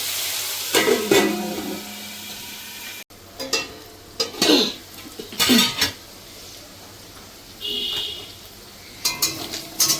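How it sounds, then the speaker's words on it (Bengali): Chicken pieces fry in a pan for egg chicken fried rice, with bursts of sizzling and metallic stirring scrapes separated by brief quieter pauses. "চিকেনটা এর থেকে বেশি ভাজলে চিকেনটা আমার শক্ত হয়ে যাবে"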